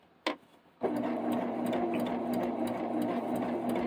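A sewing machine running a blanket stitch around an applique quilt block starts after a couple of clicks and then runs steadily with a fast, even mechanical whir, close by, with no talking.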